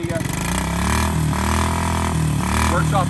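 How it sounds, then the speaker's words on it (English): A 1977 Honda Z50 Monkey Bike motorcycle idles close by with a steady, low, buzzing putter that wavers slightly in pitch, while someone talks over it. "There it is idling, and the lights do work."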